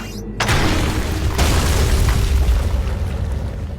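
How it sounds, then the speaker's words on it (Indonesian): A homemade weapon fires a test shot: a sudden, loud, deep boom, then a heavy rumbling roar that lasts for seconds, with a second sharp crack partway through. There is no speech. "Mendengar suara ledakan yang sangat edan itulah"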